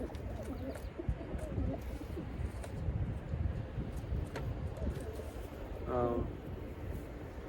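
A young racing pigeon with blue bar, white-flight plumage gives soft, low coos against a steady outdoor background hum, with a clearer burst of cooing near the end.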